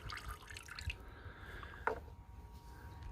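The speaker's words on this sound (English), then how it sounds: "Now just drain all the diesel out of this." Diesel fuel drains from the fuel filter housing of a Ford Ranger during a service, a soft trickling and dripping with a brief squishy splash partway through, heard close with no talk.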